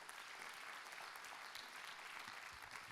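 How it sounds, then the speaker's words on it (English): Church congregation on Missions Sunday giving a round of applause, steady dense clapping from a roomful of people, faint and even throughout with no voices over it. "I think that's worth a round of applause"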